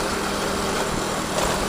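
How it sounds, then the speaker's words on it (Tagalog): A motorcycle engine drones steadily and loudly while riding over a potholed road in Oslob, Cebu, a constant mechanical rumble mixed with wind noise and no clear talking. "malaban sa mga lubak-lubak ang motor natin mga boss"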